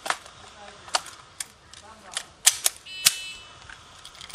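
A training firearm being loaded during a tactical training safety session: a series of sharp metallic clicks and clacks, close and fairly loud, spaced irregularly, with faint voices in the background.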